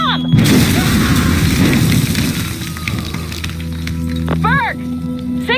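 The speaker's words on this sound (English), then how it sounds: "Bomb!" A loud bomb blast bursts in the video game Assassin's Creed Rogue, a sudden near boom followed by crackling, rumbling debris and a steady low drone, with faint voices in the game mix.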